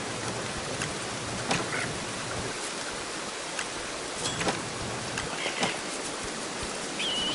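Rain falls in Don't Starve, a steady hissing downpour with scattered sharper drop ticks throughout, continuous and even in level.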